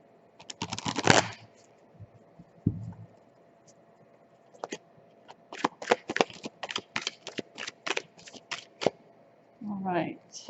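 Energy oracle cards being shuffled by hand, a dense riffling burst near the start followed by a long run of crisp, rapid slaps and flicks, close and fairly loud, with a brief murmur at the end.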